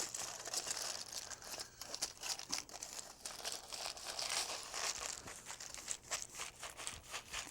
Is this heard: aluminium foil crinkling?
yes